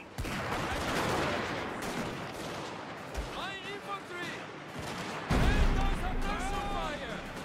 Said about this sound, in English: Lay down the suppression fire.